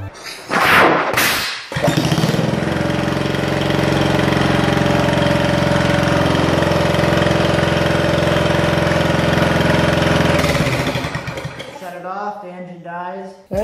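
An engine running on hydrogen made from tinfoil and drain cleaner holds a loud, steady roar for about nine seconds, then cuts off. There are brief bangs just before it starts, and a voice speaks over the end.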